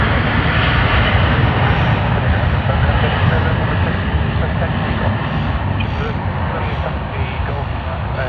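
Jet engines of a Singapore Airlines A350 airliner roar at Sydney Airport, a loud, broad, continuous rumbling whoosh that holds steady and eases slightly toward the end, heard from fairly close outdoors.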